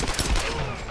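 Gunfire in the Tomb Raider video game, a quick burst of several close, loud shots in about a second.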